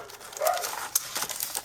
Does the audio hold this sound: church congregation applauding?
no